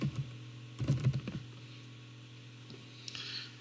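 Someone types on a computer keyboard while entering text into TSheets time-tracking software during a training session. Short bursts of soft keystroke clicks sit over a quiet room, with a few faint taps near the end and no talking.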